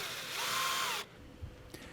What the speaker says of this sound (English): when drilling in aluminium, always apply a coolant to the drill bit